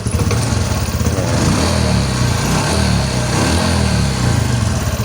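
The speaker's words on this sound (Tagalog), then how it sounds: "So normal na normal yung andar na ng makina. So natanggal na yung sobrang ingay kanina." A Honda XRM125 fi motorcycle engine runs steadily after repair, its loud, even idle throbbing close by with no abnormal noise and no talking.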